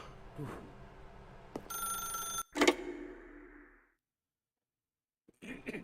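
A telephone in the video game Stanley Parable Ultra Deluxe rings in a brief, bright electronic burst, cut off by a sharp click and a fading tone before near silence, then a faint sound returns at the end.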